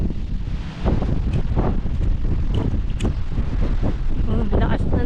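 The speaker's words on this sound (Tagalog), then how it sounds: "Oh, lakas na ng hangin." Strong wind gusts across the top of Mount Balagbag, roaring and buffeting the microphone in heavy, rumbling bursts that rise and fall without pause. The blast is close and loud throughout.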